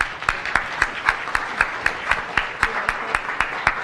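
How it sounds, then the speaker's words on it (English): A small audience claps at a science cafe talk on the local food movement, a few hands at most beating out an even, fairly slow rhythm near the listener. "Let's give them a round of applause"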